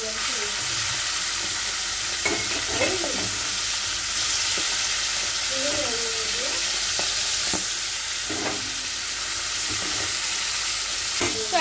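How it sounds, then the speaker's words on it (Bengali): Fish frying in a pan of hot oil, giving a steady, loud broadband sizzle throughout with occasional clinks and scrapes of a spatula stirring. "এই যে মাছ ভাজা বসিয়ে দিলাম"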